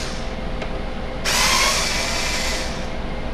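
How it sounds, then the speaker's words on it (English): A small power tool or electric screwdriver loosening the four grill screws on a Bose SoundDock Series 1 speaker, a brief tick early, then a whirring burst lasting about a second and a half before fading out. "We have four screws here we want to loosen up."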